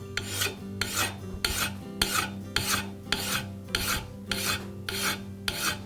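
A hand file rasps across a lawn mower blade bevel in steady, evenly spaced strokes, about ten of them, each a loud, close scraping sweep over a low background hum.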